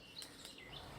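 A few quick, high bird chirps and tweets sound over a soft, steady background, part of birdsong used by a musician in a soundtrack.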